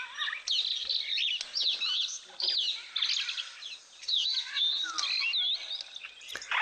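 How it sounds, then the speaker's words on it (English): Superb starlings call at an African waterhole, their bright chattering, whistling notes continuous and fairly close, without speech. "Got some wonderful superb starlings again"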